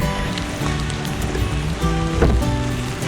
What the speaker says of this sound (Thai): ฝนตกหนักกว่าเดิมอีก